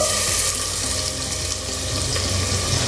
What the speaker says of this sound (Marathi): तापलं आहे, याच्यामध्ये आपण कांदा घालूया.